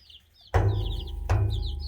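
Rhode Island Red chicks kept in a tub peep in quick, high chirps close by, broken twice by sudden loud bumps or thuds that leave a low rumble under the continuing cheeping.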